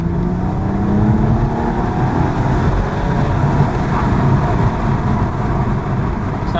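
BMW M135i engine pulls in third gear in comfort mode, a steady smooth drone with road and tyre noise from inside the car, continuous and moderately loud.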